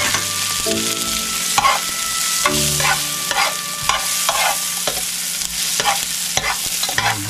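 Onions go into a pan of garlic and ginger frying in oil while cooking Filipino balbacua with cow skin, a steady loud sizzle with repeated scraping and stirring strokes of a utensil against the pan, no voices.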